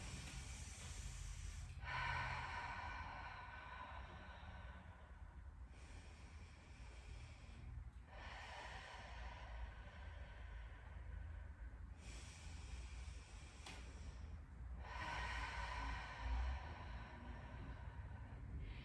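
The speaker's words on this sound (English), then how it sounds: "Breathing deeply." During a beginner core yoga exercise, slow deep breaths come close up as long, airy inhales and exhales in a steady rhythm, about five cycles with no talk.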